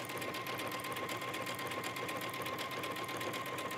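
A sewing machine runs a seam on a garment, giving a continuous, even, rapid whirring hum that holds steady throughout, close but moderately quiet, with no voices.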